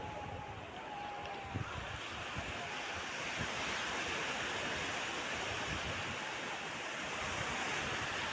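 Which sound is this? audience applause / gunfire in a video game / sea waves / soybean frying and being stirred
sea waves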